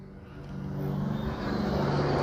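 Traxxas XO-1 RC car running at full throttle, a steady high electric motor whine that builds slightly in loudness over about two seconds, with no talk.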